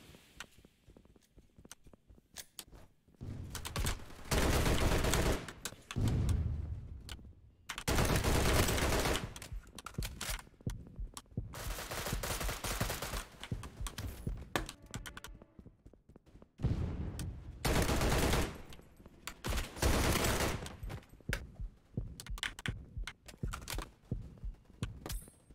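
Gunfire in a tactical bomb-plant shooter game: long bursts of loud, rapid automatic fire and heavy thuds in repeated stretches, with brief lulls between bursts, dense and close.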